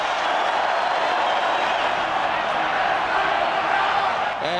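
A rugby stadium crowd roars in a loud, sustained wash of cheering and clapping from thousands of spectators, with a commentator's voice partly audible beneath the din.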